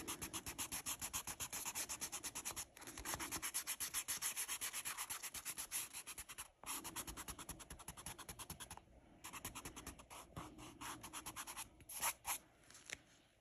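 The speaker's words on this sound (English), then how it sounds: "So this is called a kneaded eraser. It's just kind of a squishy, moldable eraser." Kneaded eraser rubbing back and forth on paper, a close rhythmic scratchy scrubbing in quick repeated strokes with a few short pauses between bursts.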